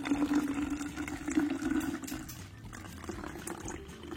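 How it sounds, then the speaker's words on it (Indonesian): Water pours into a plastic bottle as a gurgling, bubbling fill that is strongest early and then eases to a quieter trickle, close up with no talk. "Kita masukin airnya ya. Masukin airnya."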